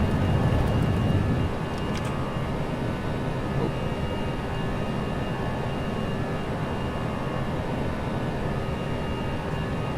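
An airliner in the X-Plane 11 flight simulator takes off from Canberra, its engines giving a loud, sustained roar that stays steady throughout with no talking.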